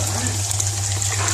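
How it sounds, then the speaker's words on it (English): Rice is washed in water in a kitchen pot, a steady wash of running, swirling water with a constant low hum beneath, close and fairly loud throughout. "Now we need to wash the rice."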